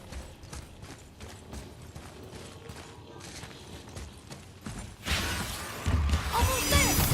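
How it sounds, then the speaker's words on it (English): Objects shatter in the God of War video game, with a loud burst of breaking and crashing debris arriving after a stretch of quieter clattering and thumps. "I will never get tired of shattering things with this."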